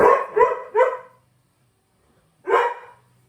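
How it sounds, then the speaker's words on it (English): A dog in the background of an indoor room barks three quick times, pauses, then gives one more bark, close and fairly loud against otherwise quiet surroundings. "apologies for the dog barking in the background."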